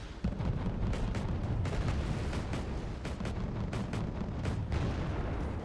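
Mortar artillery fire in the real-time strategy game Wargame Red Dragon, with repeated muffled booms and bursts at an irregular pace over a dense low rumble, heard without voices.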